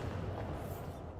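Bombarda blasting spell exploding in Hogwarts Legacy, a dense, loud booming burst with rumbling low end that fills the whole short moment without a break.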